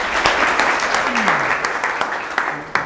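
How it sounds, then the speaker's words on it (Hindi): An audience claps in welcome for a speaker at a talk on life management: steady, dense applause that keeps going for the whole stretch, with a voice speaking over it. "इनका तालियों के साथ स्वागत करें।"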